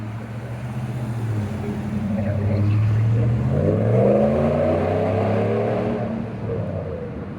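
A Ram Rebel pickup with a Stainless Works exhaust approaches and passes with a rising, throaty exhaust roar that peaks midway then fades, heard from a moderate distance.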